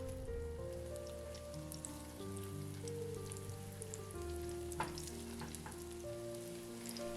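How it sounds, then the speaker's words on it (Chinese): A scallion pancake fries in oil in a pan on the stove, giving a continuous crackling sizzle with scattered pops over a low steady hum, with no voices. "锅中倒油，然后把饼坯放入锅中"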